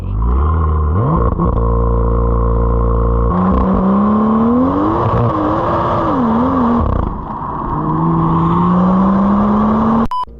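A BMW M2 in Sport Plus mode accelerates hard on a damp road, its engine rising loudly through the revs, dropping briefly between gears and climbing again, close and dominant with no talking.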